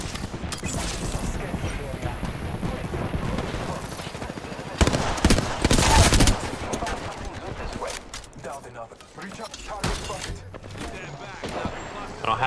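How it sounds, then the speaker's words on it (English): Rapid gunfire rattles through an Apex Legends match, with dense bursts of automatic shots and a loud cluster of blasts near the middle, set against ongoing combat noise. "The enemies are shooting at me"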